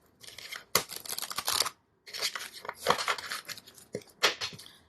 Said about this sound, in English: while I shuffle these last 2 decks